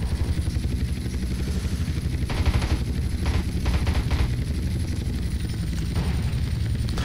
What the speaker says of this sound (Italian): Ah, si sparano pure i razzi, me lo dimenticavo.